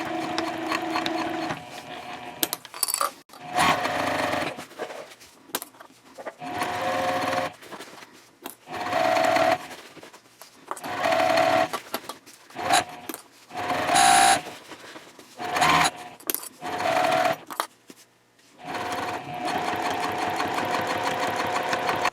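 A sewing machine stitches a 1/8 inch seam on Splash fabric at stitch length 3.0, running in loud steady bursts of rapid mechanical whirring broken by short pauses, with no talking over it.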